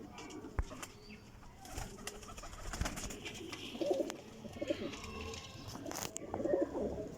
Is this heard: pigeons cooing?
yes